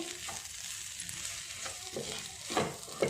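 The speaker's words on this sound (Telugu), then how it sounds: "ఇలా వేసుకున్న తర్వాత మళ్ళా బాగా కలుపుకొని" Chili masala for a country chicken curry fries and is stirred in a pan, a steady close sizzle with occasional scraping strokes from a spoon, no talking.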